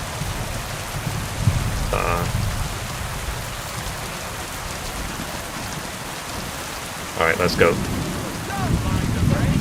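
Steady rain patters throughout the game scene, a constant wash of drops, with brief speech near the start and a louder burst of voices toward the end; no distinct thunder clap stands out.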